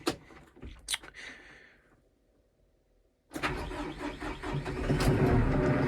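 Diesel engine of a Kubota M5-111 tractor cranking briefly, pausing, then catching and starting with a loud, rough rumble that keeps building into a steady run, heard close by.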